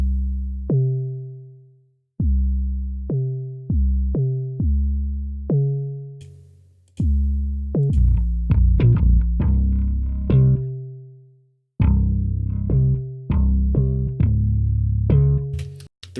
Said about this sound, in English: EXS24 808 tuned kick